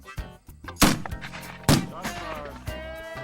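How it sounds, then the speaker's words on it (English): An old black powder rifle fired on a shooting range, heard as two loud, close booming shots about a second apart over steady background noise. "He can't resist shooting the old rifles."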